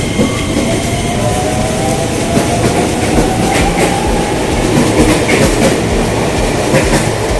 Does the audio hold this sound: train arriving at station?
yes